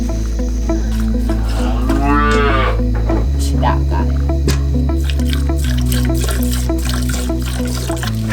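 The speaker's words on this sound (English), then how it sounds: "milking the cow" A cow moos with a rising, drawn-out call during hand milking on a homestead, close and fairly loud over a steady low hum, with faint dripping of milk and small clinks around it.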